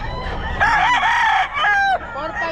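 Roosters crow at a Bocaue poultry market, two long nearby calls following one another, over a background of clucking chickens and market noise.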